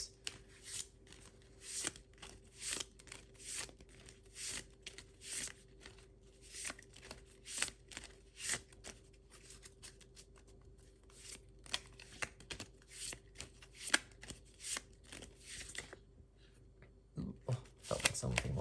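Tarot cards being shuffled and drawn close up, a series of short papery riffles and slides in irregular bursts, fairly faint, with a steady low hum underneath and a louder flurry near the end.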